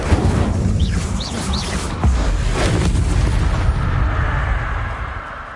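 The Incendio fire spell in Hogwarts Legacy gives a loud, booming burst of flame with a roaring rush that fades into a low rumble. Short chirping squeals come just before it.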